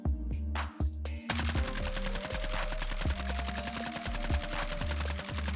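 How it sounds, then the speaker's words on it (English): Rapid automatic gunfire in a video game, a weapon sprayed at a wall from a few feet away, a few separate shots and then a long sustained burst, loud and steady with no talking. "You want to shoot your weapon of choice at a wall from a few feet away, and take a look at the pattern."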